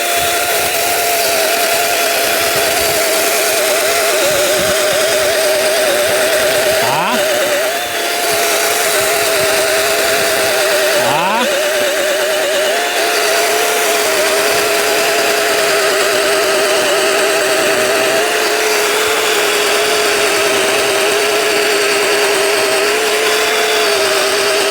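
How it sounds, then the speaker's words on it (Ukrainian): A cordless chainsaw runs at high, steady revs for a long stretch, its whine dipping briefly a couple of times as it bites, loud and close. "зараз я покажу, спробую затиснути, як же пилить ця пилка"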